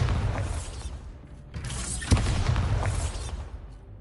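A Bombarda spell explosion erupts in Hogwarts Legacy amid a dense wash of game noise, with a sharp crack and boom partway through followed by rumbling debris, no talk over it.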